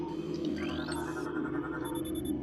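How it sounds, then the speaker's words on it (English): Metroid Prime secret item cue: a shimmering, rising electronic chime with sweeping tones and high sustained pings over a constant low ambient hum, moderately quiet. "that sound you're hearing, that is the sound of a secret item."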